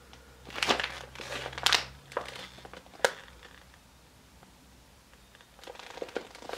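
Paper crinkling and rustling as someone searches for a product insert, in several short bursts with quiet pauses between, close and fairly soft.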